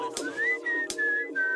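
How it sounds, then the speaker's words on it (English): A person whistling a short tune nearby, sliding notes in a few phrases separated by brief breaths. "I whistle."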